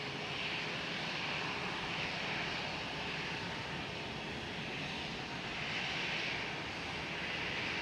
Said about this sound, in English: And then to be even more specific, Qatar Cargo 777-200 freighter